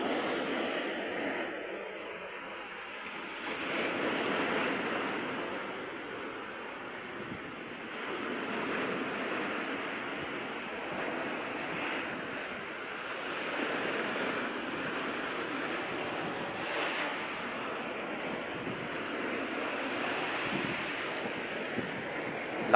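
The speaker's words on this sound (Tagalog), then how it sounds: "Ang lakas ng alon mga Q, tingnan nyo." Powerful ocean waves crash and surge continuously along the shore at New Washington, Aklan, a loud, unbroken roar of surf with wind noise and no voices.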